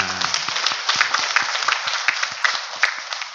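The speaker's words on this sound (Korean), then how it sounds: "우리 하나님께 영광으로 박수 돌리겠습니다" A Sunday church congregation claps together at a whole-generation worship service, a dense wash of hand claps running steadily for a few seconds, with a brief low voice at the very start.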